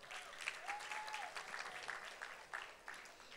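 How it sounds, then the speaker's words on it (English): A church congregation at a youth festival claps steadily for a twelve-year-old boy, a dense, fairly close round of applause with a brief whistle-like tone rising through it. "a round of applause for him,"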